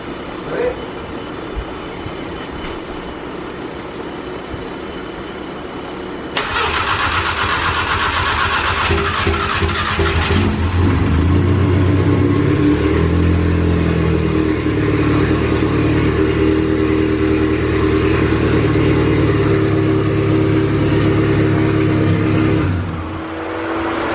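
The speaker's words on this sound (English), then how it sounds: "We're going to try and start the car." A built MK7 Golf R engine cranks and catches, then settles into a loud, steady running rumble with a droning hum that continues before easing off at the end.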